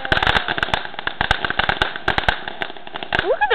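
Fireworks burst in a rapid string of sharp cracks and pops, close and loud, with crackling clusters and a rising whistle near the end, amid excited outdoor ambience.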